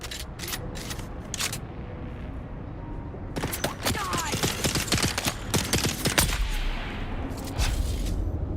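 Rapid bursts of weapon gunfire in the video game Dune: Awakening, loud and dense over steady game background noise, with no voices.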